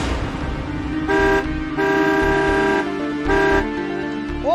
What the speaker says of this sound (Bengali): ও কর্তা, হর্ন বাজিয়ে লাভ নেই, সামনে অ্যাক্সিডেন্ট হয়েছে